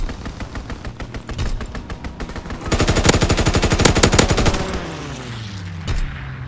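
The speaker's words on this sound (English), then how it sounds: "Strafing the target." A fighter plane strafes a target with machine guns in the World War II shooter game Call of Duty WWII, rapid loud bursts of gunfire intensifying in the middle before an engine roar trails off.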